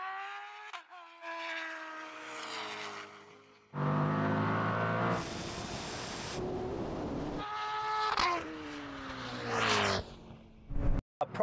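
A Koenigsegg Jesko and a Bugatti Chiron Super Sport 300+ in a drag race, with engines revving in rising tones, a loud full-throttle roar and gear changes, then revving again near the end.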